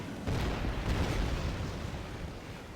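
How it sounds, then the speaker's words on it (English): A Volga artillery barrage in the video game Rise of the Reds rumbles as a dense, continuous roll of deep explosions and booms, loud and close, without pause. "Volga on the attack. Barrage mode."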